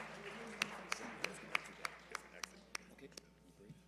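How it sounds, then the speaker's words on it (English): A few scattered, faint hand claps from a panel audience ring out at a steady, uneven pace, about a dozen sharp hits against a quiet room. "Let's have a round of applause for all the participants."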